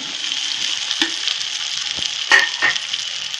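Shengoli fry over high heat with reddish-browned onions, a dense steady sizzle up close, punctuated by a few sharp spatula clicks and stirring scrapes.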